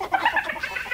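A chicken clucks close by in a quick series of short, bright calls, with no talking.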